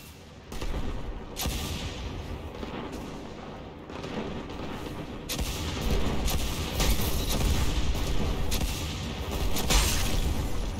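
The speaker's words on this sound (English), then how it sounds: "Rocket launchers!" Rocket launcher fire and heavy explosions in a Destiny 2 six-versus-six multiplayer match, loud repeated booms and crackling blasts stacking over each other with near-constant dense gunfire throughout.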